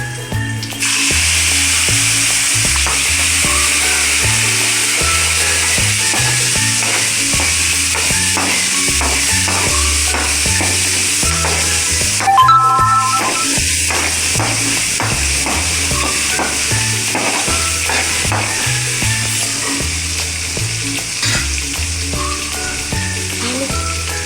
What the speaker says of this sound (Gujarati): તો હવે આપણે એમાં આ ટમેટા એડ કરી દઈશું